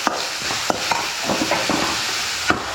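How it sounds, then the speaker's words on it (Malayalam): A spoon stirs sautéed onions and salt in a hot pan, giving a steady sizzle of frying with occasional scraping knocks against the pan, close and fairly loud, without any talking. "ഉപ്പിട്ടതിന് ശേഷം നന്നായി ഇളക്കി കൊടുക്കാം."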